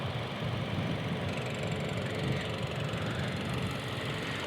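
A 2018 Toyota Camry XLE's 2.5-liter four-cylinder engine idles steadily with a low, even hum and faint ticking, heard up close without talk.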